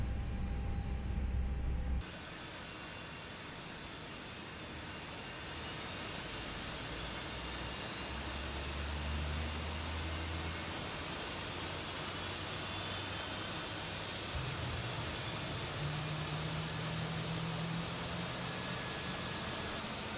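An Airbus A321neo engine in the X-Plane 11 flight simulator spools up, a steady broadband jet roar with a rising whine that holds for about twenty seconds after a brief quieter start, with no voices.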